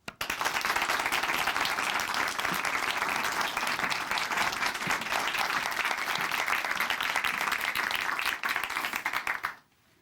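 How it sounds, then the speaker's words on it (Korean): A church audience at Chuncheon Hanmaeum Church applauds to welcome a speaker: dense, steady clapping that holds evenly for several seconds, then stops sharply. "춘천 한마음교회 박진희 자매님 박수로 모시겠습니다."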